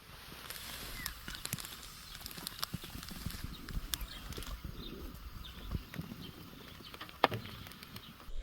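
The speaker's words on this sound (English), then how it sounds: "Woken up to horses chewing the grass below us." Horses chew and shuffle on grass just below a campsite near Kruger National Park in South Africa, with soft irregular crunching and hoof-like clops scattered close by across the early morning quiet.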